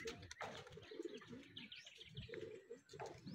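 Racing pigeons return to their loft, softly cooing and chirping with brief wing flaps in a quiet outdoor setting during a pigeon race in Liliw, Laguna. The calls are faint and come in short repeated bursts.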